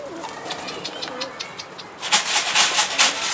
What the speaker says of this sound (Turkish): Kuş kalktı arkadaşlar. Havada kuş.